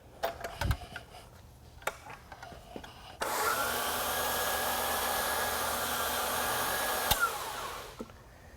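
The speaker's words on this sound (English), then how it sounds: "start off by using our slow speed 175 RPM buffing machine with a black pad" A slow-speed 175 RPM floor buffing machine fitted with a black pad runs on a concrete floor, its steady loud motor whine and broadband hum starting abruptly after some light clatter and holding evenly for about four seconds before cutting off.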